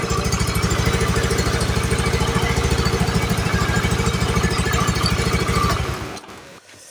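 A Honda Vario 110 motorcycle engine idles close by with a fast, even putter, then is switched off near the end and winds down quickly to quiet.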